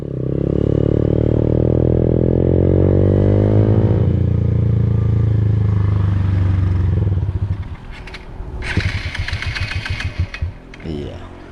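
A small Honda motorcycle ridden on a mountain road, its engine droning loud and close with a rising pitch, then easing off into a lower, choppier putter with some wind noise.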